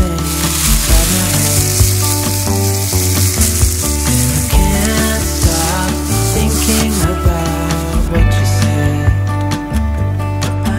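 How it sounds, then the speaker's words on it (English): Dried celery crushed by hand and packed into a jar gives a dry, steady crackling and rustling that runs almost continuously, close and fairly loud, over a melodic music bed. "I'm going to just crush all the celery and I'm going to fill it into a jar"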